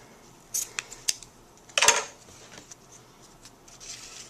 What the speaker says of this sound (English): And then we're going to cut.